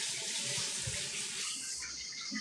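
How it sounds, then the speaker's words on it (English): A humongous scallion rinsed under a running kitchen tap, water streaming steadily into the sink with soft splashing as the stalk moves through the flow, close and continuous with no talking. "I'm gonna wash this humongous scallion"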